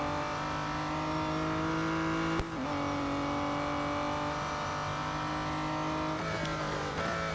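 Aston Martin DBR1-2 race car engine in the mobile racing game Real Racing 3, a loud continuous high engine drone holding a steady pitch, with a brief click partway through and no talk.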